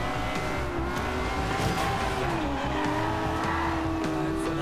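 Lamborghini Aventador in the racing game Forza Horizon, a continuous loud engine drone with rising and falling revs through quick gear shifts, along with some tire squeal, steady throughout.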